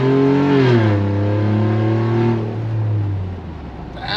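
A V6 truck engine revving up under acceleration, loud and steady with a rising then sustained tone that eases off toward the end, no talking.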